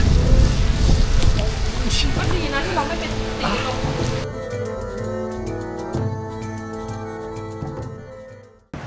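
Rain falling steadily on an island, likely Koh Kood in Trat, heard as a dense wash of noise throughout, with people talking over it and fading near the end.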